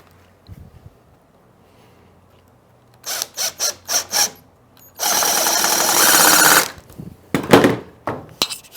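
Power drill driving 3-inch screws into a new wooden fence gate, heard as a quick string of short bursts followed by one long, loud continuous run, then a few more brief bursts.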